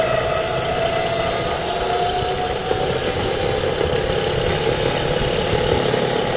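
Engine-driven permanent magnet alternator rated 220 V, 2 kW, running steadily with a loud, continuous mechanical drone and whine, its pitch rising slightly as the revs are increased.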